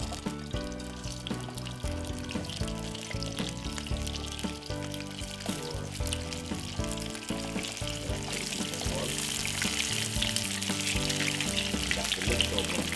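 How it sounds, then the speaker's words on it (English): Leftover boiled dumplings fry in hot oil in a pan, a continuous close sizzle and spatter that grows slightly louder and brighter toward the end, with no talk. "we're gonna fry them for roughly about 4 minutes and both sides until they get a little bit crispy"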